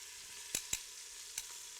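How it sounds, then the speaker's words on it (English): Flour-coated beef sears in a pot with a quiet, steady sizzle, and a few soft clinks of utensils stand out against it. "So we're going to sear the beef."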